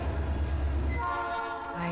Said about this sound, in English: Do you want to go look at the train?